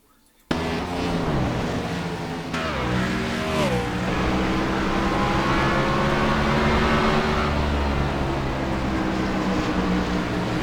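Stock race cars roar around Bristol Motor Speedway, a loud sustained engine drone with rising and falling pitch as they accelerate out of the turn, several engines blending close by.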